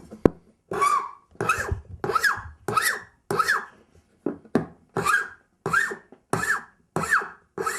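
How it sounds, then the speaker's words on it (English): A hand file is pushed across a steel knife blade to flatten it, giving about a dozen rhythmic rasping strokes, each a short loud scrape separated by brief pauses, close up and with no talking. "Now what we need to do is grind that flat, or rather file it flat"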